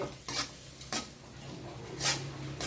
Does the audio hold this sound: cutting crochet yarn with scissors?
no